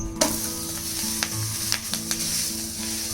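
A thick uttapam sizzles steadily in a hot pan, a soft continuous frying hiss with a few light clicks and pops on top and no voices.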